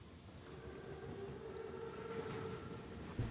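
A train rolling through the World War II shooter Call of Duty: WWII, with a steady, sustained rumble and faint high tones at moderate loudness and no talking.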